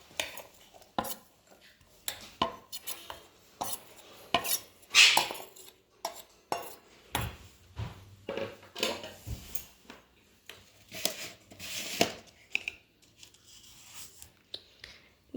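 Chopped onions tipped into a bowl of pakora batter with a spoon, giving a run of close, irregular clinks and scrapes against the dish with soft stirring between them.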